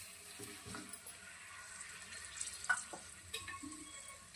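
Blended tomato paste goes into a hot spiced tempering for a meal maker gravy curry, giving a soft sizzle with intermittent stirring scrapes and wet splats, fairly quiet and close.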